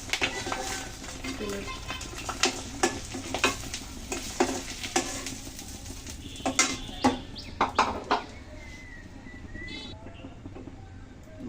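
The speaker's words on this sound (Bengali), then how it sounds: "তেল কিন্তু অনেকটা গরম হয়ে যাওয়ার পরে দিয়ে দিয়েছি, তারপর দেখুন কতটা ফুটে উঠছে।" Eggs fry in very hot oil for egg bhuna with potatoes, a steady close sizzle and bubbling punctuated by a run of sharp scraping stirs against the pan, and a voice talks faintly underneath.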